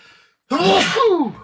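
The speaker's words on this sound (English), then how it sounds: "Sorry about that sneeze." A single close, sharp sneeze bursts out after a moment of near silence.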